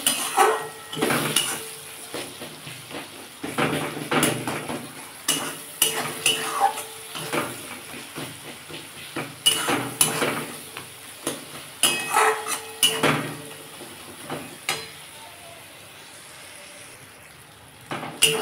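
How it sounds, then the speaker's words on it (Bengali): Spices with chili powder and turmeric stirred and fried in a pan for a Bengali lote fish curry: steady sizzling under repeated scraping and clinking of a utensil against the pan, close and continuous. "দিয়ে এটাকে ভালো করে কষতে হবে।"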